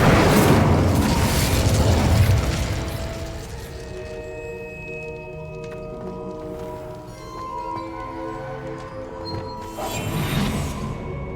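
An Incendio fire spell cast in the video game Hogwarts Legacy, a loud whooshing burst that fades into a lingering tonal shimmer, followed by another rush of flame near the end.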